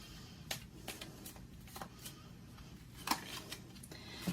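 Tarot cards are shuffled quietly, with soft intermittent riffles and slaps spaced irregularly, faint and close with no talk over them.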